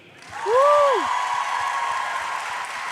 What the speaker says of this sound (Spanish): Démosle por favor un fuerte aplauso a Samuel.